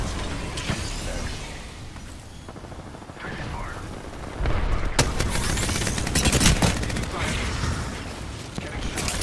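Gunfire strikes the player in Apex Legends: rattling automatic bursts and mechanical clatter that grow louder and denser partway through, continuing as a busy, close barrage.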